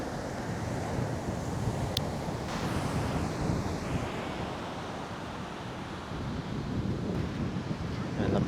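Strong surf breaking on an Ilocos Norte shoreline, a steady broadband roar of waves with wind buffeting the microphone throughout, no clear pauses between breakers.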